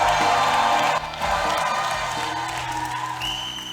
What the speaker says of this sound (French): Poussez le cri.